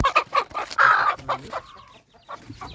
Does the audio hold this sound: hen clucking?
yes